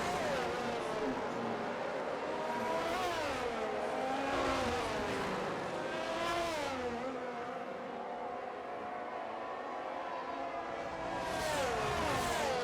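Several Formula 1 race car engines from the game F1 22 at the British round whine and rise in pitch together, with steady high revs and gear-shift dips layered over one another, continuous and fairly loud without talk.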